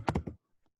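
Computer keyboard typing, a quick run of three close, crisp keystrokes followed by a few faint taps before it falls quiet.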